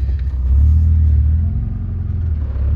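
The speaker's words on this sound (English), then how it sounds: "I'm gonna test drive it. Go around the block." An Acura TSX with added rear camber and a lowered rear, driven around the block; a steady, close engine and road rumble holds throughout with a slight swell early on.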